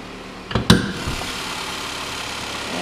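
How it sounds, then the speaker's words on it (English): A 2015 Chevy Malibu's Ecotec engine idles under the open hood, a steady, smooth mid-range hum heard close up, with a couple of sharp knocks or clunks near the start before the even drone settles. "And there's the Ecotec engine."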